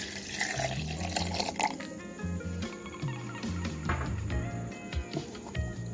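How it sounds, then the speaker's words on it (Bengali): Milk pours into a mixing jar holding mango pulp and sugar, a close, continuous liquid splashing and gurgling with a soft low hum underneath and no speech. "দুধ দিয়ে দিচ্ছি"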